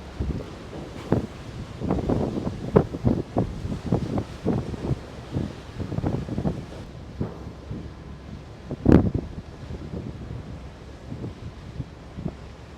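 Wind buffets a ship on the rough South China Sea, gusting in uneven bursts with rushing water beneath and one sharper loud blast near the end; no voices.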